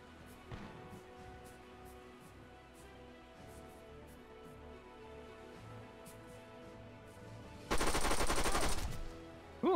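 A P90 submachine gun fires in Arma 3, with faint scattered distant shots and then a dense, loud full-auto burst of about a second and a half, no talking.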